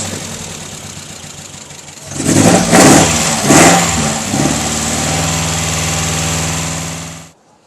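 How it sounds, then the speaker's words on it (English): A Kia FE3 engine swapped into a Mazda B2200 pickup idles roughly with an uneven misfire, then revs up in two loud bursts and settles into a lumpy drone before shutting off. "Obviously not running on all 4 cylinders."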